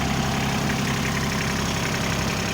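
A 24-horsepower Kubota GL241 tractor engine idles steadily and smoothly with a constant low rumble, close by and alone, with no voices.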